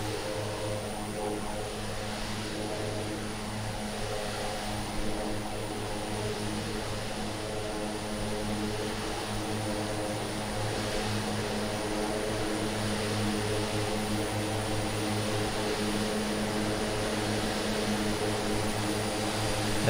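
A steady aircraft engine drone with a propeller-like hum from Microsoft Flight Simulator, heard during a beach landing; the tone stays continuous and even throughout, with no talking.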